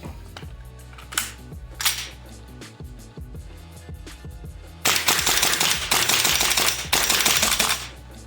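Golden Eagle M4 RIS CQB airsoft rifle firing, with a few single shots spaced out at first and then a loud, rapid sustained burst of automatic fire close by.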